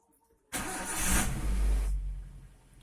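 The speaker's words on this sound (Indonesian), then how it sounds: "kita nyalakan mobil" A car engine cranks and catches abruptly, then runs loudly at a steady idle for over a second before easing down, with no talking.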